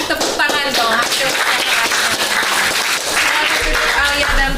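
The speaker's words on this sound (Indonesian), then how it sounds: "Tetap kasih tepuk tangan dong" Students in a classroom break into applause, a dense, continuous wash of many hands clapping at once, with voices chattering and calling out underneath throughout.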